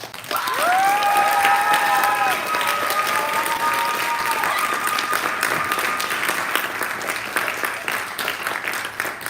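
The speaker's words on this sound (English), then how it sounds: "Let's give them a well-deserved round of applause." Sustained applause from a large crowd at a spring athlete recognition event fills the clip, with a few cheers and whoops rising early on before the clapping carries on steadily.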